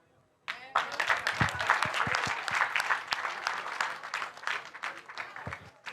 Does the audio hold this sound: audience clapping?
yes